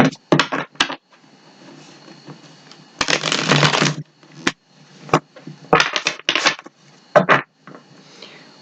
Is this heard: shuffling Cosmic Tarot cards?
yes